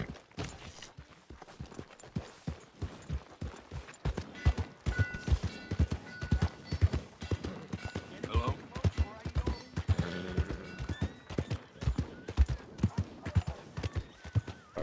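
Horse hooves clip-clop in a steady rhythmic gait in Red Dead Redemption II, crisp and close, with a whinny and faint game sounds and a voice in the background.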